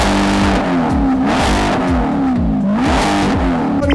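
Wide-body Corvette C8 engine revving hard at a car meet, loud and close, with repeated rising and falling throttle sweeps and no talk over it.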